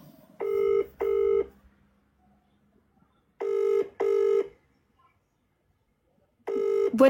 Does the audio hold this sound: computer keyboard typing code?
no